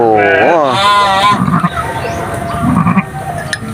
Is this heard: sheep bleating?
yes